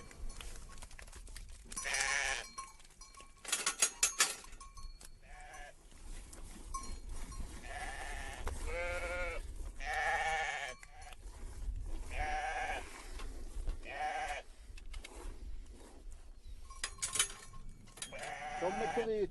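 Sheep on a Sicilian farm bleat repeatedly in quavering calls from several animals, some near and loud, others fainter, with quiet background sounds between.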